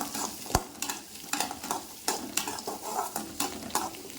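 Coconut sautéing briefly in a pan for goat intestine curry: a close, even sizzle with rhythmic scraping strokes of a spoon every half second or so and one sharp knock near the start, no talking.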